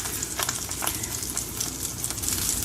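Salmon skin fries in a pan over medium heat, a close, steady crackling sizzle that runs continuously without pause.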